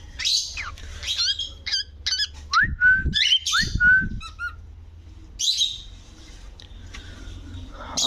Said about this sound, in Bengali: লাভবার্ড দেখতে পাচ্ছি